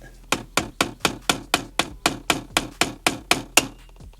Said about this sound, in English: So I'm just going to use a little screwdriver and a mallet.